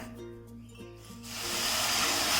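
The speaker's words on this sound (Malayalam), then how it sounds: "തിളച്ച വെള്ളമാണ് ഞാൻ ഒഴിക്കാൻ പോകുന്നത് കേട്ടോ." Boiling water poured onto roasted rava (semolina) in a pan for rava idiyappam dough, rising after a quiet start into a loud, steady steaming hiss that fills the second half.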